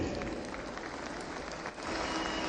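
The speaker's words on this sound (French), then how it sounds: "Et je vous invite à applaudir" Applause rises from a large gathering at a political party congress in Bangui, greeting the sultans and traditional chiefs. A dense, rain-like roar of many hands stays steady, heard slightly distant and muffled, with no speech over it.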